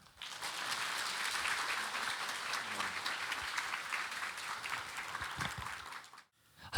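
Church congregation applauding to welcome a pastor to the pulpit, with a steady wash of many hands clapping for about six seconds, heard from a little distance, before it stops abruptly.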